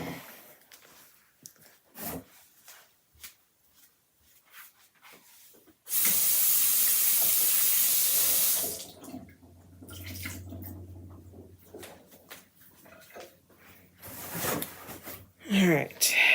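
Tap water runs in a steady, loud rush for a couple of seconds to wet a chalkboard eraser, starting and stopping abruptly amid quieter handling noises and brief speech.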